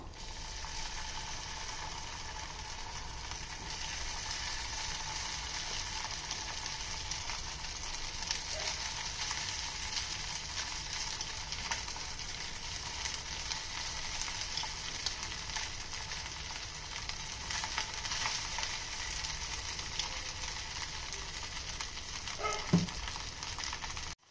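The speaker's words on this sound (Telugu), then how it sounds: "ఇది మీడియం ఫ్లేమ్లోన ఒక 5 మినిట్స్ వేపుకోండి" Dry coconut palli podi fries in a pan over a medium flame, a constant close sizzle and crackle of fat that continues evenly throughout, with an occasional light scrape near the end.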